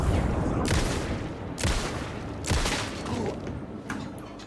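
Repeated gunshots from Alan Wake 2, sharp loud blasts at roughly one-second intervals, four or five in all, each with a booming tail, heard over a continuous rumbling game background.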